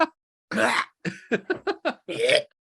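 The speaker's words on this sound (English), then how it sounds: "I need to clear my throat." A person clears their throat in a few short bursts before a podcast recording, with harsh rasping pulses close to the microphone.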